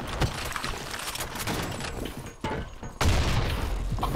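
Bomb exploding in a shooter video game amid gunfire, with a loud booming burst near the end following a few seconds of rattling shots and rumble.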